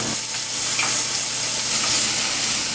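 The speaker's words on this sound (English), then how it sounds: "In my pot right there, I have some cooking oil. And all I'm going to do here is add my garlic to that first." Garlic dropped into hot cooking oil in a pot gives a loud, continuous close-up sizzle that holds steady throughout.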